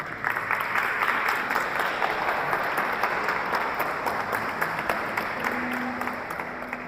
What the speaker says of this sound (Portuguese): Eu quero que você aplauda Nossa Senhora.